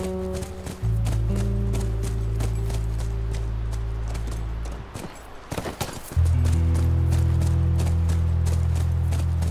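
A horse's hooves clip-clop steadily at a trot in The Last of Us game, a rhythmic clatter over a low droning musical score, pausing briefly before resuming.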